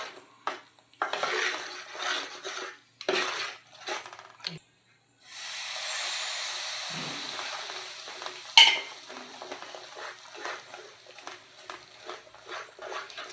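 Mysore pak sweet mixture cooks in a pan, its oil soaking in, as a utensil scrapes and stirs in uneven strokes, with a steady sizzling hiss in the middle and a sharp clink of metal.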